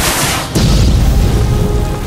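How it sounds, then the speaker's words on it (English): Cartoon Volo launcher from a Snap Ships toy battle fires with a hiss, then a loud deep boom and sustained rumbling explosion fill the rest of the moment. "Scarab, use your Volo launcher"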